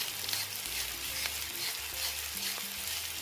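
Cuts of beef sirloin sizzle and fry in a de Buyer iron pan with a steady close crackle, while brief scrapes come from stirring and there are no voices.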